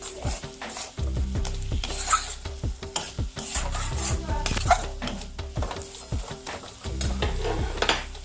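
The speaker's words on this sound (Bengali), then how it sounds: "এবার এটাকে ভালো করে মিশিয়ে একটু জল দিয়ে দেবেন" Chicken and mutton with spices being stirred in a pot for haleem, metal spoon scraping and knocking against the pot in repeated strokes over a low sizzle, close and fairly loud.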